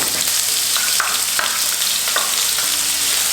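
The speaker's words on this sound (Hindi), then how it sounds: "जैसे ही तेल गर्म होगा इसके अंदर हम ये प्याज डाल देंगे" Onions frying in hot oil in a non-stick pan give a loud, dense sizzle, with several brief utensil clicks and stirring scrapes and no voices.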